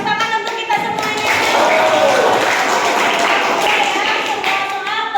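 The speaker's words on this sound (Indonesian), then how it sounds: "Tepuk tangan untuk kita semuanya." Applause and clapping from a group at a game tournament quiz session, a dense steady patter filling the space alongside voices talking over it.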